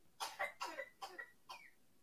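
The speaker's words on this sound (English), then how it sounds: "Livy had a little cough." A little child coughs in a quick series of short, close bursts, about five in all, with the final one trailing off into a higher, throaty sound.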